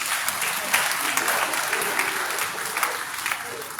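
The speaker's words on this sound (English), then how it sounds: "Please let's give him another round of applause" A round of applause fills the hall at a Nigerian Army end-of-year dinner party, with steady, dense clapping from a large audience sustained throughout.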